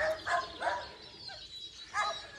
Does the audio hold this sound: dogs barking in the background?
yes